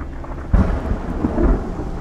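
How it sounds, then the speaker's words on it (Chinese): Steady rain falling, a dense wash of drops that swells after a soft low rumble like distant thunder, continuous and fairly close. "下雨了"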